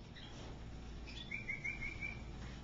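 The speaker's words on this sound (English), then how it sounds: "Look at all the birdies." Small birds chirp and tweet in a pet store, several high calls overlapping at moderate distance, with a brighter burst of song in the latter half over steady low room hum.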